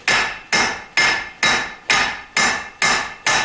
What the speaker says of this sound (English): I'm going to try to give this a couple light taps to loosen it up